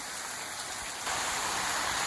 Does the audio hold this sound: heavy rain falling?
yes